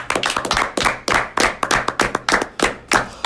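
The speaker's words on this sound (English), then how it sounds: "Round of applause for Ruffles, guys." A handful of people clap in bursts of sharp, close hand slaps, irregular and loud, with brief gaps between flurries, during a casual talk show.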